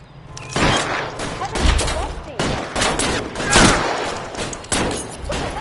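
Gunfire in a PS4 video game, loud bursts of rapid shots in repeated volleys spread across the clip, with voices calling out between them.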